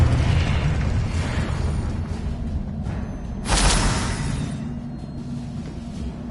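A Confringo curse explodes in the Hogwarts Legacy video game. A continuous rumbling roar is punctuated midway by one sharp, bright blast, then settles back into a steady low rumble.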